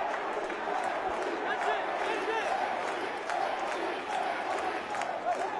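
Football crowd in a stadium at an Empoli match chanting in unison, a dense distant roar with rhythmic swells, a commentator talking over it.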